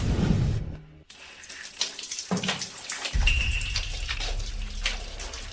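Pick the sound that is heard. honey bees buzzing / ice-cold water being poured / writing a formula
ice-cold water being poured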